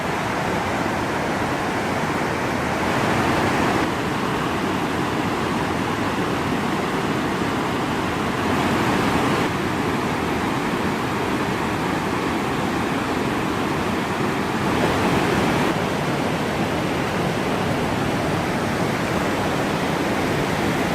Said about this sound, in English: So this is the top of Bird Rock Falls, and this is a really awesome little spot in the river.